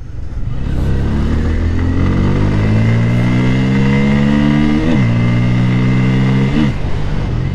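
A Bajaj Pulsar N160 motorcycle accelerating hard, its engine note climbing loud and close, then dropping briefly at two gear changes before rising again.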